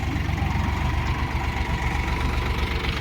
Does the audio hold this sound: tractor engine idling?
yes